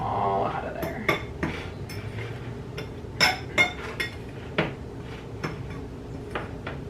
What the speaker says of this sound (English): I like mixing with a fork and not a spoon so that I can take these clumps here, kind of push them to the side